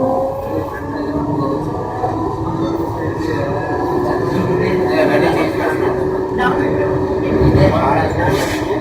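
A Bangalore metro train pulls away from Chickpet station with a steady, close rolling rumble and rising hum that fills the whole stretch, while voices murmur faintly in the carriage.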